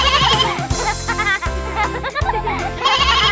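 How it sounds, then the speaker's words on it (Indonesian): Little sheep bleating in an Indonesian children's nursery song, a wavering bleat-like voice over a loud, steady musical backing with bouncy rhythm throughout. "Ada domba kecil"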